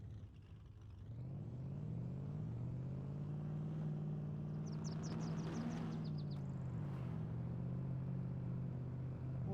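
A Ford Raptor driven in the game DayZ, its engine a steady low rumbling drone that rises and dips with the throttle, plus a brief burst of rattling clicks midway.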